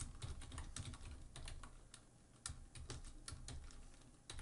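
Typing on a computer keyboard while writing C# code, a steady patter of quiet, close keystrokes with irregular rhythm and a brief pause midway, no talking.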